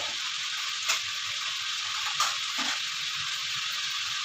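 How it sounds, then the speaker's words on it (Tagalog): Garlic, onion and tomato sautéing in a pan for a Filipino home-cooked lunch dish, giving a steady broad sizzle with a couple of faint stirring clinks, with no talk. "Igigisa ko lang ito sa bawang sibuyas, kamatis."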